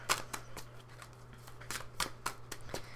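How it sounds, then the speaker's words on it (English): Tarot cards being pulled from a deck during a reading, a run of soft papery flicks and slides about every quarter second, close and quiet with no talk. "So, pull 2 more cards"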